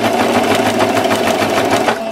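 Sewing machine backstitching at the edge of a fabric placemat, loud and close, with a steady fast pulsing stitch throughout.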